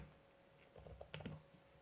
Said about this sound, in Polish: Wpisuję mój kod PIN.